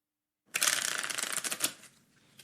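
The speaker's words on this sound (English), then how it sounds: "Let's go into the shuffle up." A single quick riffle shuffle of a deck of playing cards, close and crisp, lasting about a second after a moment of silence, then trailing off.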